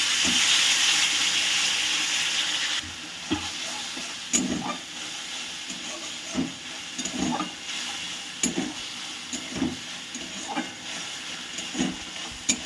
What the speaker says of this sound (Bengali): ওই টমেটোর পেস্টটা দিয়ে দিচ্ছি।